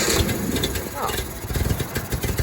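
A spare Renault 10 engine turns over and runs with a choppy, uneven mid-pitched chugging that grows steadier toward the end, up close.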